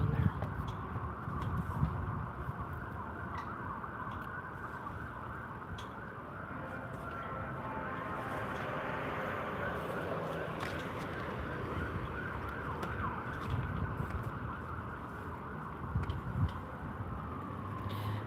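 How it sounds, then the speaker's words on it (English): Emergency sirens near a hospital wail and sweep continuously for a long stretch, mixed with steady street noise and passing traffic, fairly distant and never pausing. "There's a lot of sirens over here because there's a hospital here."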